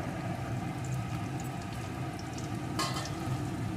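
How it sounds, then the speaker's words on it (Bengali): Chopped potato pieces and onion fry in hot oil, a continuous close sizzle with a stirring scrape near the end and no talking. "এখন আলুটাকেও আমি একটু ভেজে নেব"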